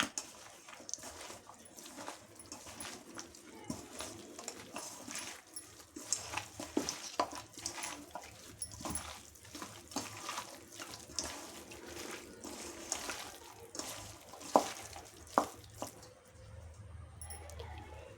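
Chicken masala gravy made with curd and lemon juice is stirred in a pan, producing a steady run of soft wet squishes and spoon scrapes, close and fairly quiet, without any talking.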